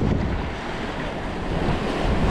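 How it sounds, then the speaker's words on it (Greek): Waves crash and spray against rocks amid strong, buffeting north wind of force 6 gusting to 8, a dense continuous roar close to the microphone. "Το κυματάκι με το που σκάσει πάνω σε κάποιο βραχάκι γίνεται σπρέι αμέσως"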